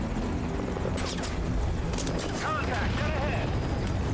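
Helicopter rotor drone in the video game Metal Gear Solid V: Ground Zeroes, a steady loud mechanical wash filling the scene alongside gunfire-like bursts and background voices.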